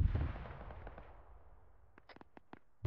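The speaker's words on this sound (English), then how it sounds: "Oh shit, those mortars are gonna be bad." Mortar fire in a military video game: a heavy booming blast that decays into a long fading rumble, followed by a quick series of sharp distant cracks and another thump at the end.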